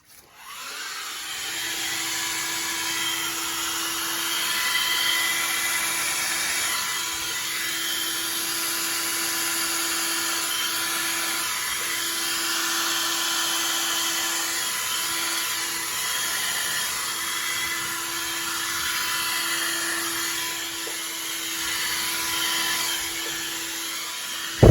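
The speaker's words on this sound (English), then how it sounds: "I hadn't used my blow dryer in a while. My fan, cool temperature." Hair dryer running on a cool fan setting, a steady close whirring blow with a constant motor tone that holds evenly for the whole stretch, no voices.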